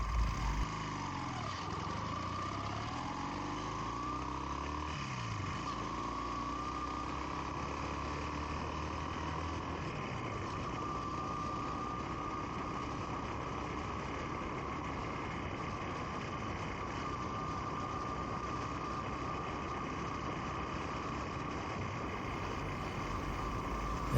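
A Honda CM200T motorcycle engine idles steadily for the whole stretch, a constant even putter with a faint hum, alone and unchanging.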